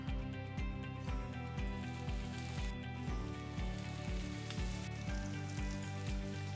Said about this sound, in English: you're going to lay each tender in the pan